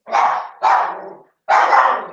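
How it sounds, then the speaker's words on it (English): A dog barks three times in close succession, loud and near, each bark short and sharp with a slight growling edge, alone with no talk. "Your dog is barking."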